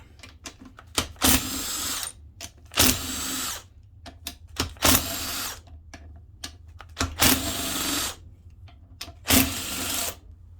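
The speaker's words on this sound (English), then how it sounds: "Let's take this one off right here. This bolt might be stuck." A power tool whirs in five or six loud bursts of a few seconds each, working at a stuck bolt on a 2004 Honda Odyssey, with clicks and clanks of handling in the quiet gaps between bursts.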